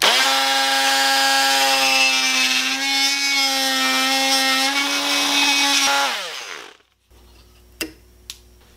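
Power tool cutting solid wood trim along the bottom of a door, flush against the floor; a loud, steady, buzzing whine holds for about six seconds, then drops in pitch and winds down, followed by two faint knocks.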